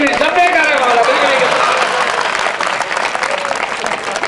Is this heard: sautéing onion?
no